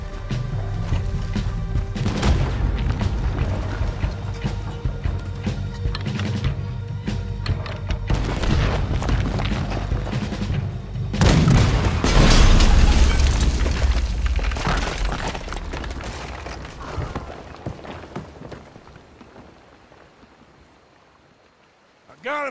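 Naval cannon fire booms during a ship battle in Red Dead Redemption 2, with heavy blasts and rumbling crashes amid water and engine noise, followed by a long decaying roar that fades to near silence.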